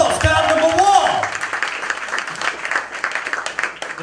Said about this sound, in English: Take a seat, give her a round of applause.